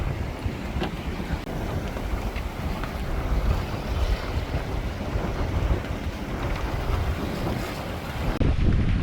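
Strong force 5 wind buffets the microphone aboard a sailboat on the River Blackwater, a loud, gusty rumble that swells and dips continuously over the rush of water along the hull, with no speech audible.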